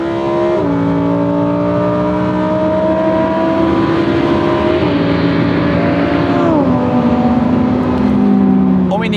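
A Lamborghini Huracán Performante engine winds up to 8,500 rpm, climbing in several sharp upshift steps with a loud, close howl that rises and drops in pitch, while a voice talks over it.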